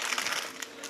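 A packet of instant ramen broth crinkles with a steady, close rustle of thin plastic in a quiet kitchen, with no pauses in the sound.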